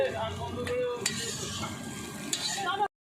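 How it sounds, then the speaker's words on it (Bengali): Onions hiss and sizzle in a pan while a utensil stirs them, with occasional scraping taps, close by, before the sound cuts off. "পেঁয়াজগুলো সব দিয়ে দিল ভালো করে নাড়িয়ে নিচ্ছে দেখো লাল লাল করে ভাজা হয়ে যাবে"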